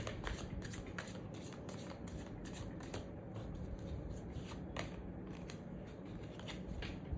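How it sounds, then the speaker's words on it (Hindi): Tarot cards being shuffled and drawn by hand, a steady run of crisp riffling and snapping card sounds close to the listener, with no talking. "अभी हम लोग क्लैरिफाई भी करेंगे एक एक करके कार्ड्स को। पहले मैं ये कार्ड्स निकाल लेती हूँ।"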